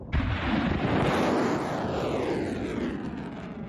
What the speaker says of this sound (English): missiles fly